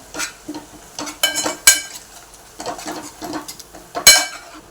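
A spice paste gets stirred in a pan with chili powder, turmeric and salt, a utensil scraping and clinking against the metal in irregular bursts over a soft sizzle, with sharp knocks near the end.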